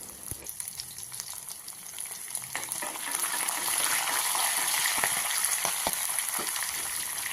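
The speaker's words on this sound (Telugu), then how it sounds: "పోపుని దోరగా వేయించడం" Tempering spices for spinach dal sizzle and fry in a hot pan, with a continuous hiss that swells louder partway through, punctuated by occasional light clicks from stirring.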